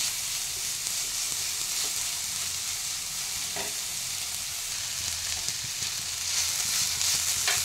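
Onion sautéing in a pan for a tawa onion chutney makes a continuous soft sizzle, with occasional scraping clicks of a spatula stirring it, and no one speaks.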